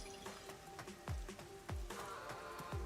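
Rain falls in the video game Rain Code as a soft, steady patter with scattered heavier drops landing at irregular intervals, faint and even throughout with no voices.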